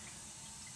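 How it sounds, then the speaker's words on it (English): Water drains out of a removed towel ladder radiator into a washing-up bowl, a steady, close, continuous splashing trickle. "Water's coming out"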